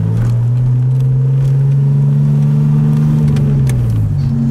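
A 1981 DeLorean with a Stage-2 electronically fuel-injected engine drives down a street, heard from inside as a loud, steady low engine drone with slight pitch shifts and faint cabin rattles.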